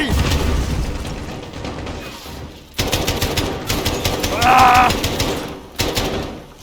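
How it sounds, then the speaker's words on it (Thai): Rapid bursts of automatic gunfire in Call of Duty: Modern Warfare (2019) crackle in stuttering volleys, with a brief metallic ringing tone and some pauses between the bursts. "ยิงอัดเข้าไป"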